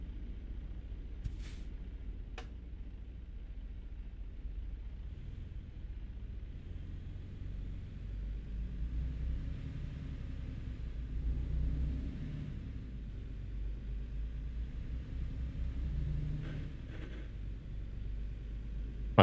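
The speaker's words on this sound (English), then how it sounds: "My truck is falling apart, or at least it sounds like it is." A truck in a driving game rumbles steadily along the road, a low continuous drone with faint rattles and a couple of brief hissing bursts near the start.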